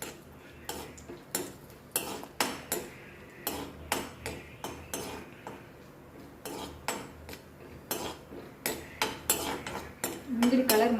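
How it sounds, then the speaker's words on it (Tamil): Cashews roast in ghee in a pan while a metal spoon stirs them, clinking and scraping against the pan in a quick, regular rhythm of close, sharp taps. "முந்திரியை கொஞ்சம் பொன்னிறமாக வறுத்துட்டு"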